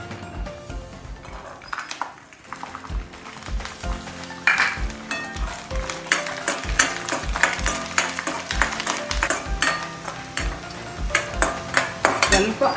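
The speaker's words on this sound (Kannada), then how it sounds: "ಇನ್ನು ಸ್ವಲ್ಪ ಎಣ್ಣೆ ಹಾಕ್ಕೊಂಡು ಸ್ವಲ್ಪ ಬೆಳ್ಳುಳ್ಳಿ ಹುರ್ಕೊಳ್ಳೋಣ" Garlic frying in a little oil in a kadai for a huli soppu chutney, a close sizzle under dense, rhythmic metal clinks and scrapes of a spatula stirring against the pan.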